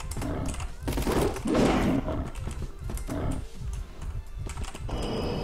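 Rapid bursts of video game gunfire from a hard-recoiling weapon crackle over a dense, busy mix of battle noise, loud and sustained across the whole stretch.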